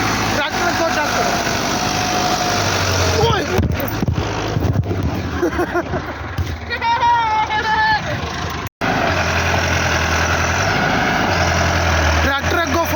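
A tractor 385 engine strains loudly against a stuck trolley, its heavy droning roar swelling and easing in waves with a brief cutout near the middle, while people talk over it.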